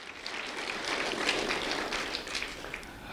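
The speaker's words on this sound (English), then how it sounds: "So a round of applause for them, acknowledging their fine work." Audience applause at a community celebration event, a steady wash of many hands clapping at moderate distance, sustained evenly for a few seconds with no voices.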